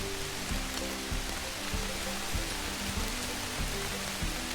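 Steady rain falls on a rainy September morning outdoors among garden plants, a dense continuous hiss of drops on surfaces with no voices.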